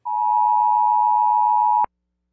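Emergency broadcast system test tone, a single loud steady electronic beep holding about two seconds and then cutting off abruptly, alone with no other sound.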